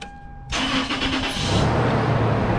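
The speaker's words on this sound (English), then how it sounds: "So I'm gonna start up the engine now." A 1998 Toyota Tacoma engine cranks briefly and catches, then settles into a loud, steady idle close by, with no talking over it.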